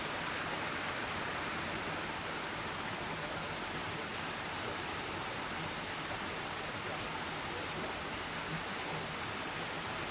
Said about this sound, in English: I hiked to a waterfall